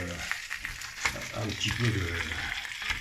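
Guinea fowl and vegetables fry in a cast-iron pot with a close, steady crackling sizzle and scattered sharper pops, fairly quiet throughout.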